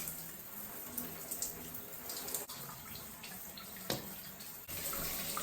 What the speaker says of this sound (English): I'm going to throw a little bit more water on the back section here